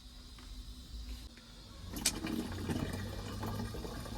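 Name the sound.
water being poured into a cooking pot for rice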